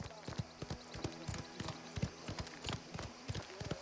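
Horse hooves clip-clop in a steady walking rhythm in the Mafia: The Old Country video game, with a low background ambience beneath the repeated sharp knocks.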